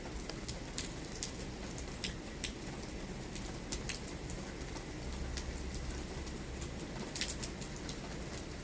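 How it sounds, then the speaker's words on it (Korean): Steady rain falls on a surface outdoors, a continuous close hiss with scattered brighter drop taps throughout and no voices. "빗소리도 좀 들어보고, 그러면서 있어 본다."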